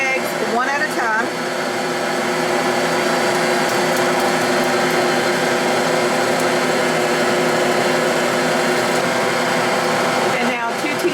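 An electric mixer creaming softened butter with eggs, its motor whirring in a loud, steady drone with a constant tone that holds throughout.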